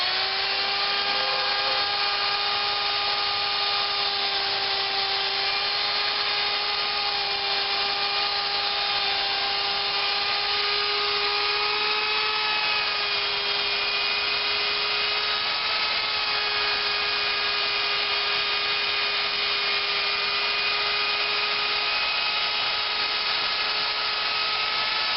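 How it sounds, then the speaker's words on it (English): Electric drill fitted with a paint mixer paddle stirring weed tea fertilizer, a constant steady whine with strong even harmonics held for the whole stretch, close and uninterrupted with no talking. "And then I use a paint mixer for a drill."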